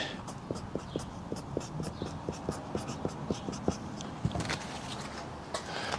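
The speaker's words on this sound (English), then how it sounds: "I'm gonna write intake on this" Someone writes the word intake on a bag during an engine disassembly. Quick, rhythmic scratching strokes sound close and quiet, each one short and evenly spaced, and they grow denser toward the end.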